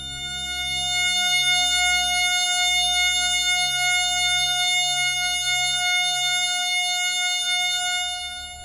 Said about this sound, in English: 3600 vibration cycles create the A sharp needed to complete yet another F sharp major chord that sounds like this